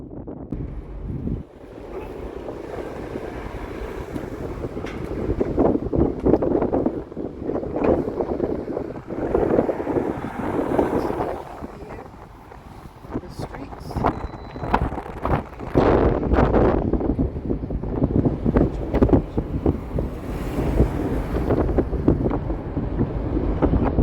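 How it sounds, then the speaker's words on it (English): Strong wind ahead of Hurricane Melissa buffets an outdoor microphone in loud, uneven gusts and rumbling roars that surge and ease over the whole stretch. "It's getting windy."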